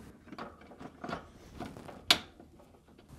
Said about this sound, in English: using a 1/4 inch nut driver, remove these 2 screws